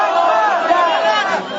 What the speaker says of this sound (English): On the square there are scattered calls of Allahu Akbar